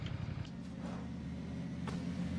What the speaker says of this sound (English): there's a car coming behind you?